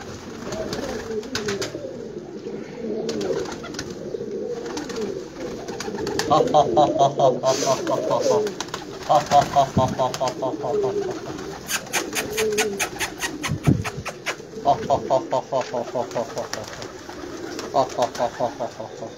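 Pigeons coo in soft, repeated rolling calls close by, several birds overlapping, while someone talks in between.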